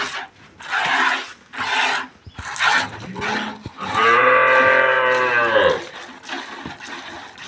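A dairy cow at a cattle market, standing near her week-old calf, lets out one long, loud, close moo, preceded by shorter rough bellows and rubbing, scraping noises.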